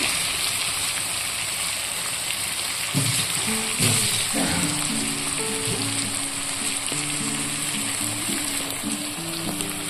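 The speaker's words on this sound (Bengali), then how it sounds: "এবার আমি এতে অল্প একটু জল অ্যাড করব, নাহলে মশলাটা আমার পুড়ে যাবে।" Water poured into masala frying in a pan for a cauliflower dish, with a continuous loud sizzle and a splashing, bubbling surge as the liquid hits, plus a faint tonal hum; no talking.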